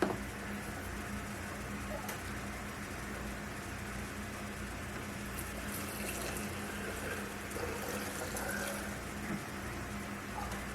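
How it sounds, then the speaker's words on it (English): Water runs steadily from a tap while canning jars are filled, a soft continuous rushing and splashing that stays faint and even for the whole stretch, with no talk. "now we're just going to fill these up with water."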